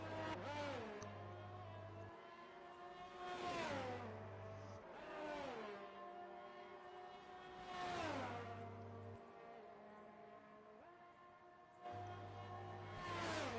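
On-board race car engine in a sim racing game at an Australian circuit, revving hard and sweeping up through the gears with repeated rising whines and drops at shifts, steady and close, no talking.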